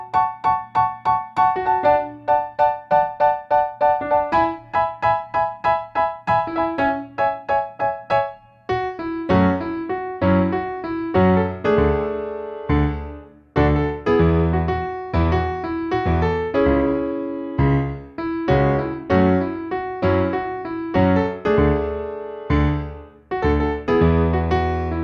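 Solo piano plays the intro of a song, starting with a sparse repeated staccato figure, then shifting into fuller rhythmic chords with a bass line, clear and close with no talk.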